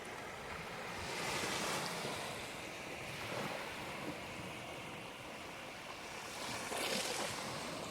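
Waves wash up onto a beach in slow, soft surges, rolling in and receding at a moderate distance under a steady hiss of wind, with no voices.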